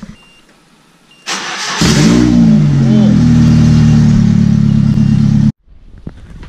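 A turbocharged Nissan 240SX S14 engine cranks and catches, then idles loudly with rising revs close by before cutting off abruptly.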